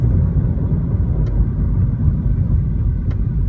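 A 2012 Mitsubishi Lancer GT-A 2.0 with a CVT drives steadily through manually selected gears, giving a continuous low engine and road rumble with two faint clicks along the way.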